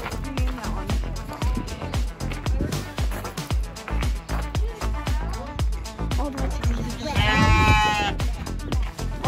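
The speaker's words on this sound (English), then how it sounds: "a lot of baby cows." Repeated bleating calls from calves at a fair petting zoo, several animals overlapping in an irregular rhythm, loud and nearby, with a longer high-pitched cry near the end.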